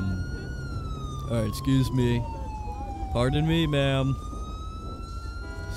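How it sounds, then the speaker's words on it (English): Police car siren in GTA 5 during an LSPDFR patrol, a steady electronic wail sweeping up and down and running the whole time, loud and close, with brief bursts of the horn and a voice speaking over it. "So we're gonna go ahead and kill this siren"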